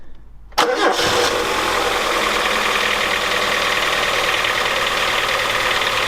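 A car engine with a newly installed basic central locking system cranks briefly, then catches and settles into a loud, steady, close idle.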